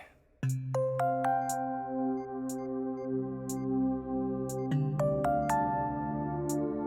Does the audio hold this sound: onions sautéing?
no